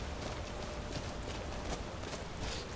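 Horse hooves clip-clopping in Skyrim, a steady run of soft beats buried in a dense, loud wash of game ambience and wind.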